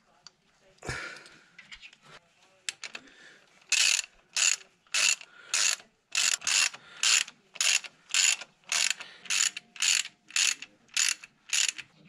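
Ratchet tightening the water housing bolts on a Toyota RK110 Stout with a 5R engine: a dozen evenly spaced, crisp bursts of clicking up close, following some softer handling noises and a faint clunk.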